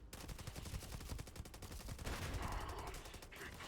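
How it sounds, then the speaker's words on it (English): Halo 5 assault rifle in a Starfield weapon mod, a rapid, steady stream of automatic fire with evenly spaced shots, loud and close, running for the whole stretch. "And then finally we have The Halo 5 assault rifle."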